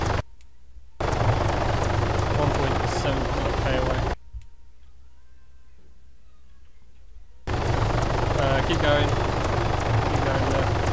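Steady aircraft engine drone from a video game combat flight, loud and continuous, cutting out abruptly mid-clip into near silence before resuming, with faint ticking and gunfire-like crackle mixed in.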